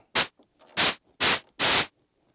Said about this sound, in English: create a nice little percussive bit of noise